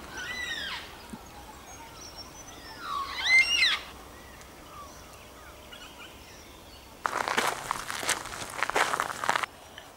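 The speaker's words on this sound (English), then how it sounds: "There they are, the yellow tailed black cockatoos." Yellow-tailed black cockatoos, a flock of about twenty, give two drawn-out wailing calls from a distance, followed by a stretch of close crunching footsteps through brush.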